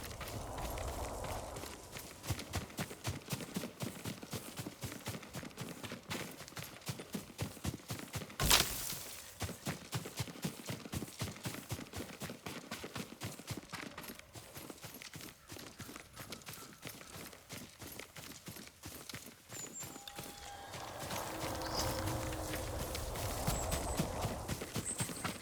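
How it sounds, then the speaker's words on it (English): Horse hooves clip-clopping at a walk in the samurai game Ghost of Tsushima, a steady close rhythm of hoofbeats with a sharp crack partway through and a brief whinny near the end. "Yuriko's horse."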